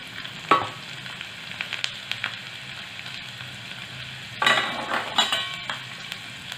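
Slit garlic cloves hitting hot oil in a tadka for dal palak with the flame off, giving a steady sizzle with brief clinks of a utensil and a louder burst of crackling near the end.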